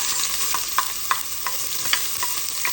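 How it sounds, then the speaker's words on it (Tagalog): Onion sautéing in oil in a pan, a steady soft sizzle under repeated light stirring scrapes and taps spaced about every half second, close up with no talking. "Una, lagyan ng mantika ang kawali. Igisa ang sibuyas."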